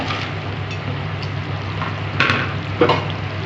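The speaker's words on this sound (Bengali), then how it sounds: "ভেজে রাখা বড়া বা কোপ্তা এগুলো আমি দিয়ে দিচ্ছি।" Fried elephant foot yam koftas go into a simmering curry, giving a steady sizzling bubble with a couple of soft splashy bursts near the end, close and moderately loud with no talking.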